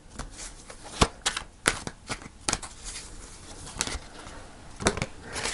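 Tarot cards being shuffled and pulled from the deck, a run of sharp riffling bursts and soft flicks close to the mic, with quiet rustling in between.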